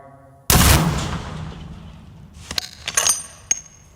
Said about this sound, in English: here's a 50 cal through the rear of a Mazda